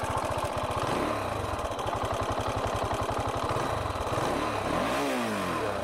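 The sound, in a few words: motorcycle engine idling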